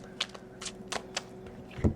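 Tarot cards being shuffled by hand produce soft, sharp riffling snaps at irregular intervals, ending in a louder, fuller thump as the deck is squared, with no talking.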